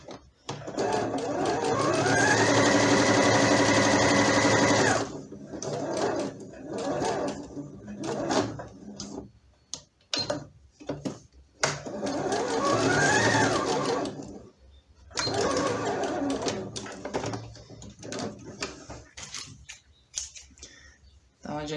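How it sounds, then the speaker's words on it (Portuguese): A sewing machine stitches a small folded fabric piece for a baby elephant pillow's tail, running in two quick buzzing bursts separated by quieter moments of handling and clicks, with someone talking in between. "Aí nós vamos dobrar e fazer uma costura aqui."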